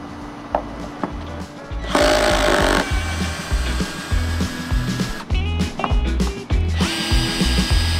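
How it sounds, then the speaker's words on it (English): A power drill whirs in short bursts removing screws from a trolling motor, its whine starting and stopping repeatedly, close by with no one talking. "now we're just going to simply remove the screws"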